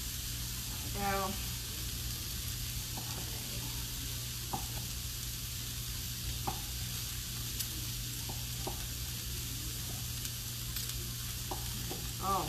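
Skirt steak fajita vegetables sizzle in a hot pan with a steady hiss and occasional stirring clinks. A brief voice comes in near the start, and a low hum runs underneath.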